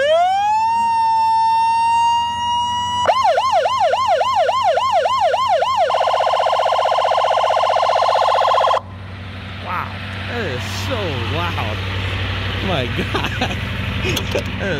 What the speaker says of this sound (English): This is what some of the sirens sound like.